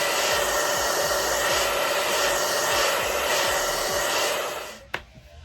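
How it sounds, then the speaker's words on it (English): A blow dryer runs on hair at the top of the head during a slick ponytail styling, a steady close whooshing roar that holds for about five seconds, then cuts off with a brief click. "what I'm gonna do now is just go through the top with a blow dryer"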